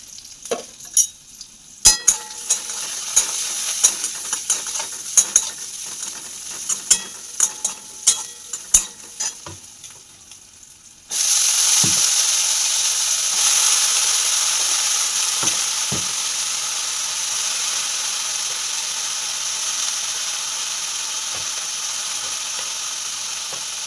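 Onions, dry red chillies and panch phoron fry in a kadai, giving a steady close sizzle after a first stretch of intermittent scraping and stirring clicks, then continuous hissing frying with a few stirring taps.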